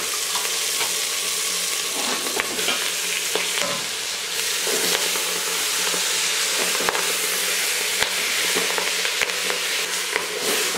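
Fenugreek leaves fry with spices in a pan, a steady crackling sizzle broken by occasional scrapes and clicks of a spoon stirring, close and continuous with no talking.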